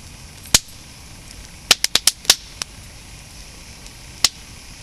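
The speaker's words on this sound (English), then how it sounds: "Do you hear all that crackling and spitting?" Dry firewood burning in a small fireplace gives sharp, isolated cracks and pops: one loud snap, then a quick burst of five or six close together, and a final crack, over a quiet steady background.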